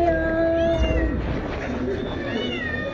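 Several cats in a cat breeding shop meow loudly and repeatedly, the long wavering cries overlapping close by against a steady indoor background.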